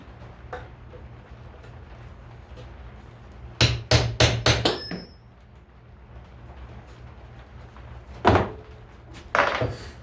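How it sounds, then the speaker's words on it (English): Several sharp hammer strikes drive a small brad nail into a wooden table in a quick burst, followed by a couple more isolated knocks, over a quiet woodshop hum. "Set a nail here, little brad."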